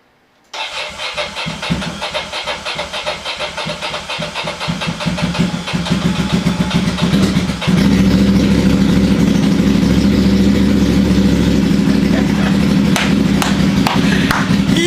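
A motorcycle that is low on gas cranks, catches and starts, then settles into a loud, steady idle close to the microphone. It revs up around the middle of the clip and then holds a strong, even rumble.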